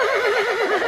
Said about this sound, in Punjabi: ਘੋੜਾ